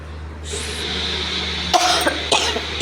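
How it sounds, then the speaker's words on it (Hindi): Two short, sharp coughs from one person, close by, following a steady hiss and low hum. "मुझे बार बार खांसी आ रही है"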